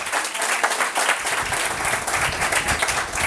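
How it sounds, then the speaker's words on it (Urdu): A church congregation at a Palm Sunday service applauds loudly, a dense, continuous wash of many hands clapping that stays strong and sustained throughout. "اور اس برے کے لیے زوردار تالیاں بجائے، ہاللیلویہ۔"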